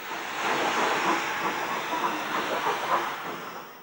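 A Bulleid Battle of Britain Pacific steam locomotive, 34051 of Salisbury shed, departs with an express, heard as a moderate steady rumble with hiss and rhythmic exhaust beats building through the clip.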